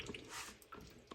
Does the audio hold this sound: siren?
no